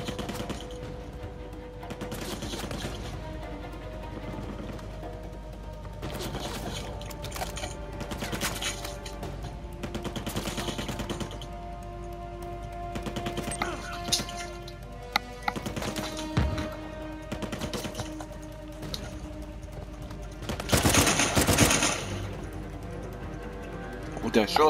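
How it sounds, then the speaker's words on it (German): Repeated bursts of gunfire crackle at intervals, some in rapid volleys, with someone talking over the game sounds in Uncharted 4: A Thief's End on PS4. "Guter Schuss, Nathan."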